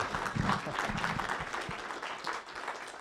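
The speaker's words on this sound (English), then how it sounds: "A good round of applause, please." A conference audience applauds at the official opening, a steady dense patter of many hands clapping throughout, moderately loud and filling the room.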